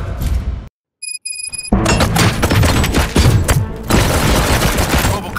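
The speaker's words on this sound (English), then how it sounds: "Gunshots? What's going on?" Gunfire in RoboCop Rogue City, a dense loud volley of rapid shots and booms after a brief silence with a short electronic beeping, continuing as sustained close fusillade.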